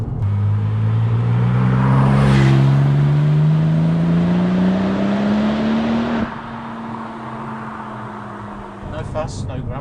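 A 2001 Porsche 911 Turbo 996 with twin turbos pulls hard at full throttle from low revs, its engine note climbing smoothly for several seconds before easing off as the throttle lifts, loud and close from inside the car.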